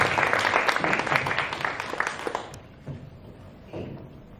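An audience at a peace event in Edmonton applauds guests: a dense burst of clapping for about two and a half seconds that quickly thins out to a few scattered claps and quiet room noise.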